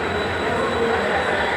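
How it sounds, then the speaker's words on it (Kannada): Hubli railway station carries a dense, steady rumble of a train with broad broadband roar and a faint high tone, loud and continuous throughout, with no voices standing out. "ಇದು ಹುಬ್ಬಳ್ಳಿ ರೈಲ್ವೆ ಸ್ಟೇಷನ್."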